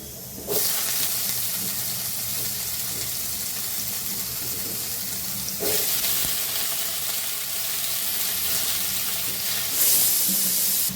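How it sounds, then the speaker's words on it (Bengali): Spice tempering (phoron) spitting in hot oil in a home kitchen, a loud continuous sizzle with a couple of sharper bursts, no talking. "রান্নাটা করে নিয়ে দেখা যাচ্ছে না, ফোড়ন দিয়েছি।"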